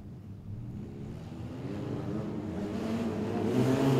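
Wingless sprint cars race at Kingaroy Speedway, a distant engine roar that swells steadily as the field accelerates past, growing louder toward the end with no voices.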